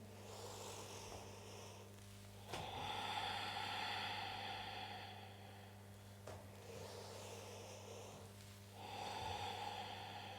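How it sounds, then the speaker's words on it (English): Slow yoga Ujjayi breaths through a constricted throat, each long exhale carrying a soft snoring rasp, repeating in a steady cycle over a low constant hum. "you can use your Ujjayi breath if that makes sense. That snoring, exhaling sound."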